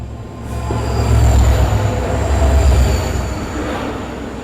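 A diesel locomotive hauls a train departing on a ghat section of Indian Railways, with a steady low engine rumble and rolling wagon noise that swells and stays loud and near throughout.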